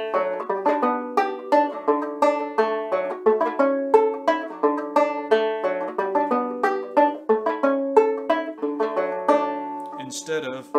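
Clawhammer banjo with strings played open on a fandango-style tune, a steady run of bright plucked notes and brushed strums in a quick bouncing rhythm, close and moderately loud, with no talking.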